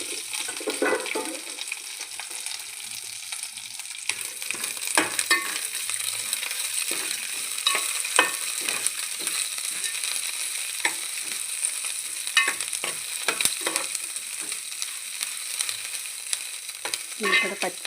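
Lentils deep frying in hot oil for mint chutney, a continuous bright sizzle with crackling pops and occasional stirring scrapes throughout, close and steady with no talking.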